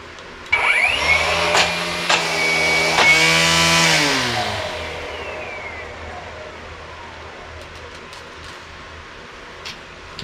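An Ego cordless weedwacker whirs up sharply, holds a steady electric whine at high speed, then winds down slowly and trails off into near silence.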